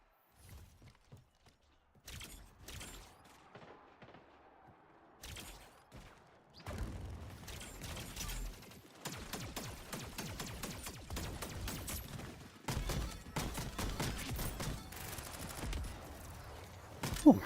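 Splitgate video game firefight with a grenade going off, starting sparse and quiet, then building into dense, rapid bursts of gunfire, sharp impacts and shattering hits, with a brief louder blast near the end.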